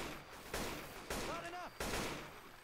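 Three sharp gunshots in the Left 4 Dead 2 video game, spaced about half a second apart, each a loud crack with a short decaying tail, heard over faint game sounds.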